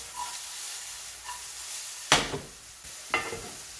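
Ground turkey browns in a pan with a soft, continuous sizzle, broken twice by sharp scraping stirs close by; no one speaks.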